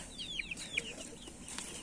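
Several chicks and broiler chickens clucking and peeping nearby, a scatter of short high calls in quick succession over a quiet barnyard background.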